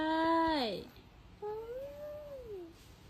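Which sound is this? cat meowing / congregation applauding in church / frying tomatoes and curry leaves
cat meowing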